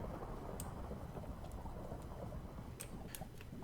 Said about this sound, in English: because it's like mega lightning in here.